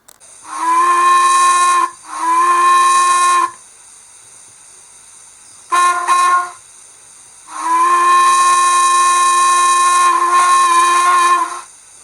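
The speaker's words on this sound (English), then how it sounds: "This is an LMS style whistle, or hooter." A model LMS-style steam whistle, or hooter, on a DJH Ivatt Class 2 locomotive sounds in four blasts: two long, a short one, then a longer sustained hoot, each with a steady harmonic tone over a faint hiss.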